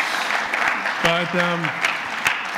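Audience applause for a guest at a church service, steady clapping from a crowd that runs throughout, while someone speaks briefly over it.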